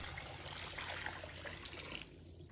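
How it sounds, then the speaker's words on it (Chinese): Clean water is poured into a bowl of pork belly coated in flour, giving a soft, close splashing trickle that runs about two seconds and then stops. "再往里面倒入清水"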